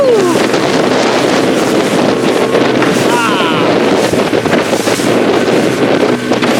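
Heavy wind buffets the microphone aboard a fishing boat out on the Pacific, with big ocean waves washing and rumbling around the hull in a constant loud roar, and voices exclaiming over it.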